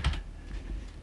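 A quick run of keystrokes on a computer keyboard, soft, close clicks entering a web address, heard alone with no talk.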